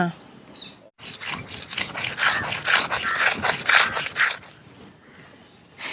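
Skin rubbed firmly against a wooden block to strip its sliminess, a close, gritty scraping that runs in a steady series of rough back-and-forth strokes for several seconds before fading, with faint background noise around it.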